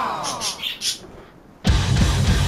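A bird in the video game We are the Fire gives several short, faint, high chirps, then a sudden loud rumbling noise cuts in and covers the rest.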